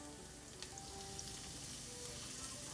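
Garlic frying in oil for spaghetti aglio e olio, a steady soft sizzle with faint crackles and pops, close but fairly quiet, with no talk.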